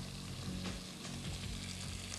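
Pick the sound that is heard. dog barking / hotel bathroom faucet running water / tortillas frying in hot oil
tortillas frying in hot oil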